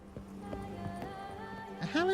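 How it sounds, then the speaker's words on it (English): Hooves clip-clop at a steady gallop beneath background music in The Witcher 3 video game, with a whinny-like sweep near the end. "Even a horse drops if you ride it at a constant gallop."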